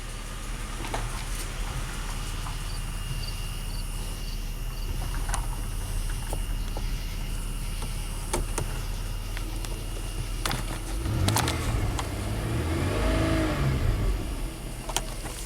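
A Buick LaCrosse with a 3800 engine idles after a thermostat replacement, a steady low running drone with crickets chirping around it, then a louder engine surge near the end.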